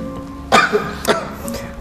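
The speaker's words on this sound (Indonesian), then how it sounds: "Asapnya lumayan bikin batuk." Short coughs caused by smoke, two or three harsh, close bursts spaced about half a second apart.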